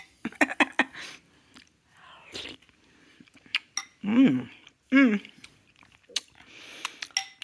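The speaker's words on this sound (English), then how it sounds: "I guess that's what I'm chewing on" Someone chews a mouthful of soft cooked lentils from a green curry lentil and pasta soup close to the microphone, giving soft wet mouth sounds between a few sharp utensil clicks and brief voiced murmurs.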